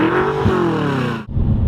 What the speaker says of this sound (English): You hear a little bit of turbocharger, and it does sound good